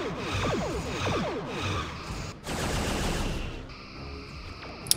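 Starship weapons firing during a space battle in a Star Trek game, rapid rhythmic bursts of pulsed blasts followed by a sustained rumbling barrage, loud and close with no talking.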